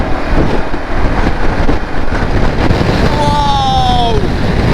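Storm-force wind roaring past a motorbike rider's microphone on a winter Highland road during a storm, a loud constant buffeting rush with engine whine rising near the end.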